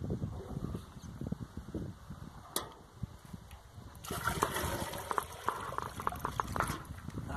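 Clean mineral water running outdoors near young fruit trees, a soft trickle and splash that grows fuller and brighter partway through, with faint knocks and movement nearby.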